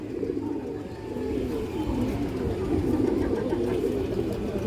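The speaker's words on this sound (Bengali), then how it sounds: "এই দেখেন কালো ঠোঁটের কালদম কবুতর, বুট ঠোঁট" Low, soft coos of Kaldom pigeons repeat in a continuous murmur, fairly close, over faint background noise.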